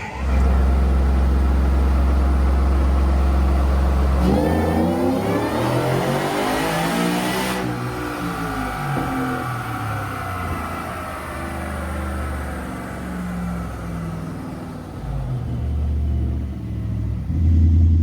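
A Whipple-supercharged 5.0 V8 in a 2025 Ford F-150 roars during a dyno pull: a loud idle rumble, then a sustained climbing rev with rising whine, before easing back down.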